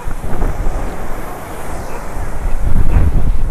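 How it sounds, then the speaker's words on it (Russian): Ocean waves roll onto a beach on Koh Phangan, Thailand, in cyclone weather as a continuous roaring surf that swells near the end, heavily buffeted by wind rumbling on the microphone. "Ого, вот это волны тут."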